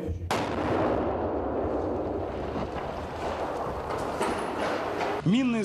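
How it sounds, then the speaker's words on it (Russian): Soldiers detonate an explosive shell found in an unfinished house in Syria. A sudden loud blast opens into a long, rolling roar that fades slowly under wind noise and ends with a brief squeal. "Военные уничтожают взрывное устройство на месте."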